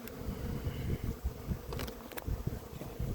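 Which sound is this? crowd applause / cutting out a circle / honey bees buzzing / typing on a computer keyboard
honey bees buzzing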